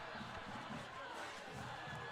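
A stadium crowd roars steadily through a high school football game between the Sequoyah Chiefs and the Denmark Danes, a dense and sustained wash of cheering heard from a distance.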